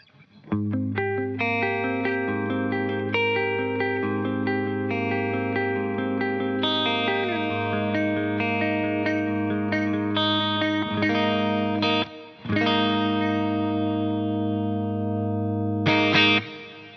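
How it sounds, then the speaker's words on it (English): Clean electric guitar run through a VLD1 Legacy Drive with a presence boost and a touch of hall reverb, playing sustained ringing chords with a long reverberant tail, loud and close, with a brief pause before the chords resume. "And now I'm going to add in just a hair of Hall reverb."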